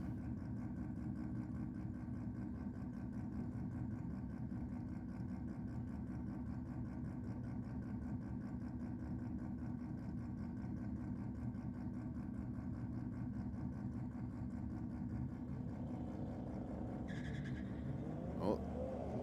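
Drag racing cars, a rotary 13B or 12A and an Audi, at Sydney Dragway: a low, steady engine rumble and idle from a distance, with a brief rising rev near the end.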